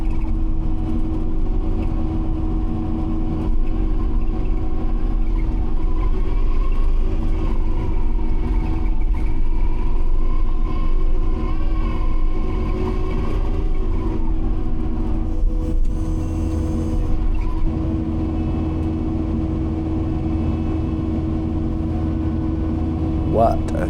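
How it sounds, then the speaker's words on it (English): A telehandler pushes snow across a parking lot during a big snowstorm, its diesel engine droning steadily and loud throughout with slight revving swells, while a voice talks over it. "John is running the telehandler."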